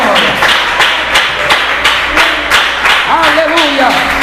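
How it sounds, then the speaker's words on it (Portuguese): A congregation in a church claps hands in a steady rhythmic beat throughout, with loud, close claps mixed with voices and a melodic vocal line rising near the end. "Pode glorificar a Deus com palmas para Jesus."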